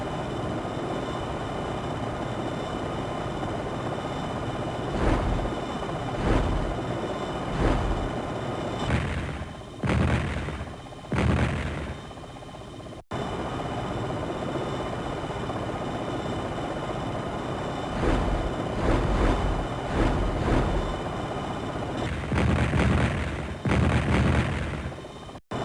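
Rockets launching and explosions in Jane's Longbow 2, a helicopter combat game, set over a steady roar of rotor and engine noise, with repeated booming bursts rising out of it across the stretch.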